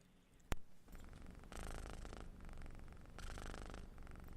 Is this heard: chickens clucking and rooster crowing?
no